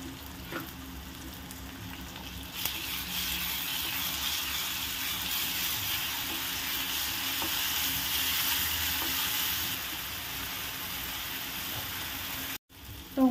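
Finely chopped tomatoes fry in a pan with a steady, hissing sizzle, broken by occasional scraping stirs, before a brief clatter and a pause near the end.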